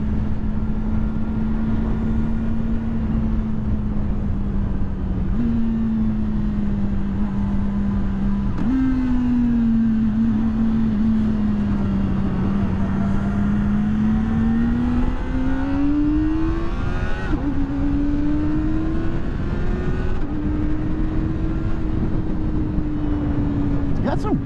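A 2023 Kawasaki Ninja ZX-4RR engine hums steadily while riding, its pitch rising and dropping through gear changes under constant wind noise, with a rider talking at times.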